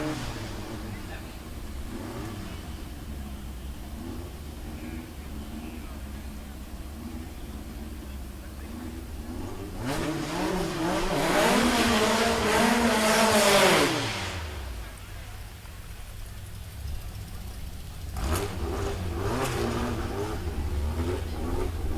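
VW drag race cars at Mason Dixon Dragway in an all-motor class rev and launch, one engine climbing loudly through its gears and fading away, then another revving near the end amid constant outdoor crowd and track ambience.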